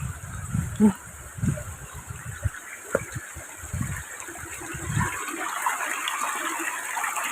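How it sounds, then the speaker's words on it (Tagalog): Water from a waterfall rushes steadily in the background outdoors, while low voices and a few knocks come and go over it at first before the flow is left alone. "May busay dito mga kaidol."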